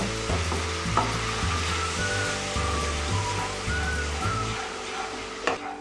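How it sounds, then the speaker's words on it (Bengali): Masala for a potato curry fries in a pan with a splash of water, hissing steadily while a spoon stirs it in regular scraping strokes, a low rhythmic clatter under the sizzle, with a sharper knock near the end. "এবার খুব ভালো করে আমি মশলাটাকে কষে নেব"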